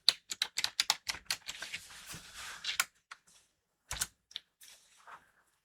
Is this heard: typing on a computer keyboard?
yes